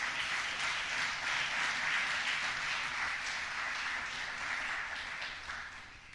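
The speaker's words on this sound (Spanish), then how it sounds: "denle un aplauso a Dios por su vida" A church congregation claps together, a dense, moderately faint wash of applause that holds steady and then fades slightly toward the end.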